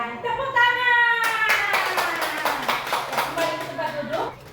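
A class of students claps briefly in a classroom, a short burst of hand clapping over a sustained tone and some children's voices.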